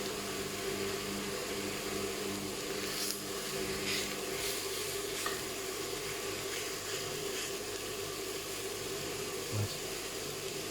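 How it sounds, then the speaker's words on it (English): An electric kettle heats water for lamb tagine stock, giving a steady, low broadband hiss and rumble that holds evenly throughout, with no talk. "That's the kettle going on for"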